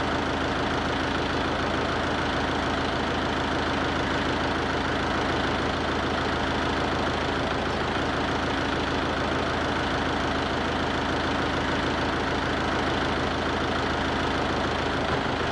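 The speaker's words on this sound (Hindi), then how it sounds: "लो आइडल आरपीएम और लो आइडल में इंजन हंटिंग की जांच करें।" A Mahindra Yuvo 575 DI tractor engine idles at low RPM during a low-idle speed adjustment, a steady continuous rumble with even knocking pulses, loud and close, with no voices.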